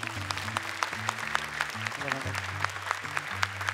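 A studio audience on an Indonesian televised Quran memorization show claps in a brisk, scattered patter while upbeat music with a steady bass line plays underneath.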